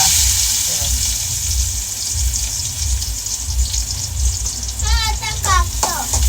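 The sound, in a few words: onion frying in hot oil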